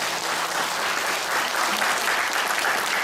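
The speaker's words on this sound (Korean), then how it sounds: "자, 박수로 우리 친구들을 환영해 주시면 감사합니다." A church congregation claps loudly and continuously to welcome visiting friends during a Wednesday service, a dense, sustained wash of applause that cuts off abruptly at the end.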